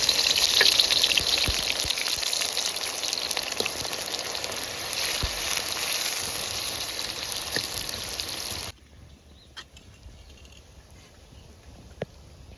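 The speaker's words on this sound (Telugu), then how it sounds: "ఐదు పెద్ద ఉల్లిపాయలు అది మొత్తం ఆయిల్ ఫ్రై చేస్తున్నాం" Five large onions fry in a pot of oil for a mutton head biryani, a loud, steady sizzle with crackling pops that suddenly drops to a quiet hiss after about nine seconds, with a few faint clicks afterward.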